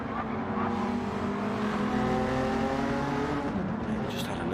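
GT race car in a live championship final round, its engine held at full throttle in a steady, sustained roar with a faint rising tone, fairly close and fairly quiet.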